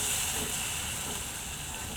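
Tomato onion paste hits spices in a hot pan, giving a loud, continuous, bright hissing sizzle that holds steady throughout with no voices.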